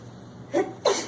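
Two quick sneezes, close and fairly loud, the second following the first after a short pause, with otherwise quiet background.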